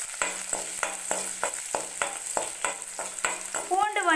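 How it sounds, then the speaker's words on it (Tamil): Sliced garlic sizzling in a pan for South Indian garlic rice, with a spoon scraping and stirring in a steady rhythm of repeated strokes close by, and no talk. "ஆட் பண்ணி நல்லா மிக்ஸ் பண்ணி விடுங்க."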